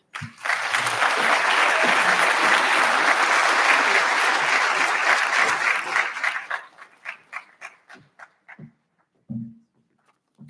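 An audience at a biomedical sciences graduate program lab coat ceremony bursts into sustained applause for about six seconds, then it thins into scattered individual claps that trail off.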